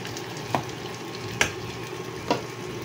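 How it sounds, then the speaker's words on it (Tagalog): Onions sautéing in a pan, a steady close sizzle broken by three sharp scraping taps of a spoon against the pan at even intervals. "antayin na natin maluto yung ating sibuyas."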